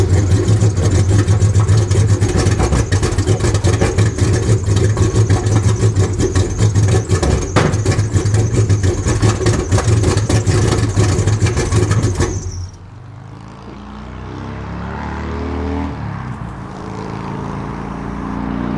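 A 1994 Cadillac engine rated at 300 horsepower runs with no exhaust system fitted, giving a loud, raw, steady roar close by. After about 12 seconds it cuts off, leaving quieter background noise.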